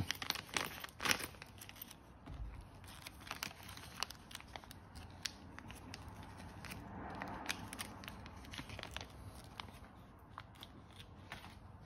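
A plastic package for a Givi TankLock ring accessory for a Ducati Monster 797+ is cut open and crinkled nearby, giving a run of sharp crackles and rustles that starts loud and settles into steady, softer crinkling.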